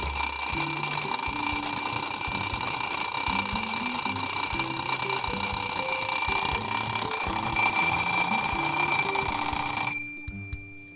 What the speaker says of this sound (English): this alarm clock will definitely wake me up for my online classes